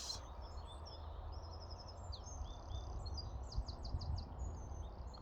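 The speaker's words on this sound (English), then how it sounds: "Listen to the birds." Birds sing outdoors in short, repeated high chirps and trills, soft and somewhat distant over a low background rumble, with no talking.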